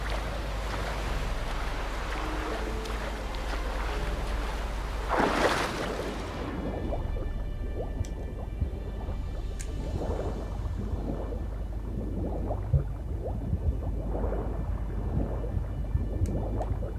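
Sailing ship moving across open water in The Witcher 3, with a steady wash of waves and wind, a brief louder surge of splashing, and faint creaks and small knocks over the continuous sea noise.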